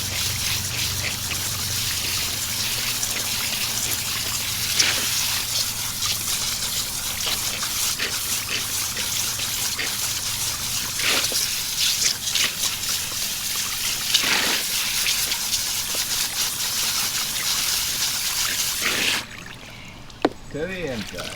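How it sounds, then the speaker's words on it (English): A tie-dyed spiral shirt in Chinese red, navy blue and lemon yellow is rinsed outdoors under running cold water, a steady splashing gush that continues throughout before cutting off near the end. "We've got it outside with the cold water. Get a little cursory rinse down"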